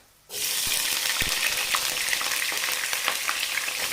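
Onions hit hot oil in a pan for chana daal pulao, a sudden loud sizzle that bursts in after a short silence and holds as a steady close crackle with occasional stirring clinks.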